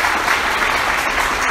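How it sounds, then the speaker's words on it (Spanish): A church congregation applauds, a loud, dense, continuous wash of many hands clapping together without pause. "Alguien aplauda a Cristo"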